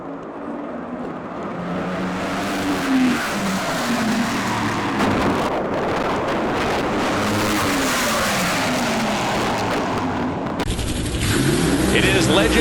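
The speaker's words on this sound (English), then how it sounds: "It is Legends Nitro Funny Car action." A Legends Nitro Funny Car drag racing run at the NHRA Las Vegas Nationals, 2023: a thunderous, crackling nitro engine roars for many seconds with rising and falling pitch, then a sudden sharp shift in tone near the end.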